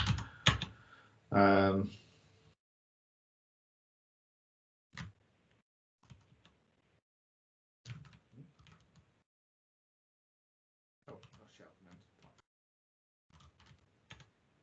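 Computer keyboard typing in short bursts of clicks separated by pauses, fairly close and quiet, with a brief bit of speech at the start.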